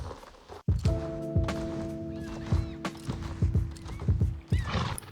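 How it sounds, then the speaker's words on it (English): Horse hooves clip-clopping in the online riding game Star Stable Online, a steady near walking rhythm of hoof thuds with a whinny and a sustained tonal game sound underneath, no talking. "This is footage of the first time I rode Quartz Charger"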